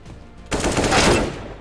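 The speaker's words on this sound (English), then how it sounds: "Those may seem like the most mundane AK shots you've ever seen in your life" A rapid burst of AK rifle fire in Counter-Strike: Global Offensive erupts after a quiet moment and rattles on loud and dense to the end, with no talking.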